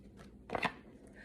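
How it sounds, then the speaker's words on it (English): A tarot card deck being shuffled: a brief, quiet riffle of cards, one short burst of crisp rustling in an otherwise quiet room. "I usually just pull from this deck, but I'm going to shuffle a little bit."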